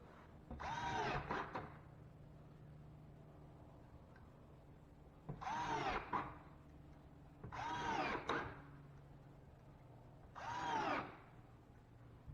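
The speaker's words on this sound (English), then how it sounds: "I like to put screws on the outside edge if possible to tighten up the old sheetrock" Power drill drives screws into old loose drywall sheetrock in four short whirring bursts, each about a second long and separated by quiet pauses, close and fairly loud.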